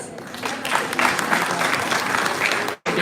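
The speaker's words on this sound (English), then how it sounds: "And round of applause." Audience applause fills a college founder's weekend event hall, a steady dense clapping from a crowd that stays loud for nearly three seconds before cutting off abruptly.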